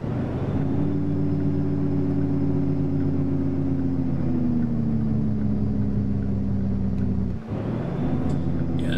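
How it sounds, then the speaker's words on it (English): Truck engine jake brake in an American Truck Simulator mod, a loud, steady low rumbling drone with a slowly falling pitch, a brief dip near the end, then the rumble resumes. "Jake brake sounds so much better in this mod than ATS or Devs did."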